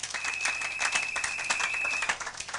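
A church congregation applauds, many hands clapping together in a dense, even patter that stays strong through the short stretch, with a thin steady tone running underneath.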